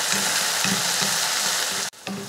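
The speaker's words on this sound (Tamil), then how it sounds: "சேர்த்துட்டு இதையும் வெங்காயத்து கூட சேர்த்து வதக்கிடலாம்." Moong dal with onion and green chilli sautéing in a pan, giving a steady close sizzle and fry hiss with soft stirring scrapes throughout, briefly cut off near the end before resuming.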